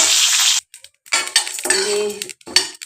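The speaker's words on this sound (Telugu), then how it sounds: "చిటపట ఉంటున్న సౌండ్ చూసారా?" Peanuts, sesame seeds and cumin frying lightly over a low flame in a pan, giving crisp bursts of crackling and sizzle broken by short pauses and a clink of metal, close and fairly loud.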